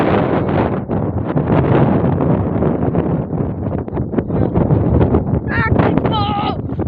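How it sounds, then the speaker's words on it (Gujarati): Steady wind blowing across an open field after rain, loud and continuous, buffeting the microphone, with a few faint bird honks near the end. "પવન આવે હે"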